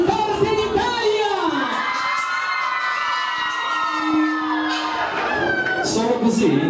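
Women in a crowd at an Italian club party in Aosta scream loudly and shrilly to win a free t-shirt. Long overlapping high-pitched screams and cheers swell and fade, with voices and whoops mixed into a continuous roar.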